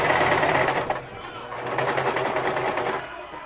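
A sewing machine stitches pleats into fabric for a Kylo Ren cosplay costume, its motor whirring steadily and close by, easing briefly around the one-second mark before running on.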